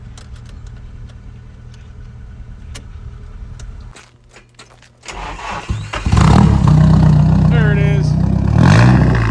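Car engine revving up as gas is applied at a car meet, loud and close after a quieter stretch, with people talking nearby.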